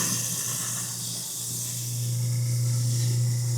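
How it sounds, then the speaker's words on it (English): Newly installed garbage disposal running with the tap on, a steady motor hum under a continuous watery hiss that swells and settles, with no talk. "And then go ahead and turn your your garbage disposal on too."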